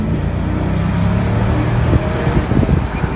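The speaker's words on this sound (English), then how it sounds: "Listen to that growl out of the V8." A 2004 Mercedes-Benz SL500 roadster's V8 engine drones loudly while driving, mixed with heavy wind rush against the microphone, and the revs rise slightly toward the end.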